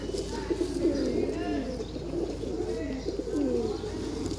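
A pigeon coos in repeated soft, throaty phrases close by during a flying-pigeon competition, with low background murmur underneath.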